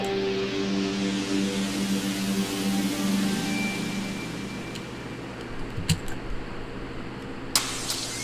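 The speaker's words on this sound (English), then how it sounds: "I also mess with the tremolo and I also do a filter so it sounds like this." Electronic music with tremolo and a sweeping filter, a dense sustained tonal wash that gradually darkens and thins, with a few brief clicks and bursts near the end.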